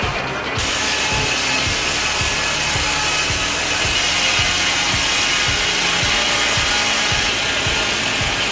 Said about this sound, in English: The old steam-powered sawmill has two large, sharp blades and remains powerful despite its age. Thanks to its durable design, it can precisely cut large logs.